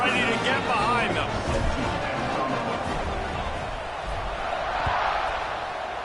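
Video game football stadium crowd roars at kickoff in an LSU versus UCLA matchup, a dense, steady wall of cheering and babble that swells and holds throughout.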